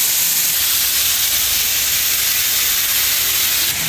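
Lobster drops into hot oil in a home kitchen and fries with a loud, steady hiss and crackle that stays constant, close and unbroken, with no talking.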